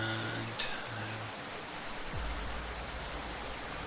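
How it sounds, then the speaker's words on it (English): Even, continuous hiss of moderate rain in the video game Vigilantes, steady throughout with faint low tones beneath and no talking. "there's multiple different intensities of rain, and there's also storms"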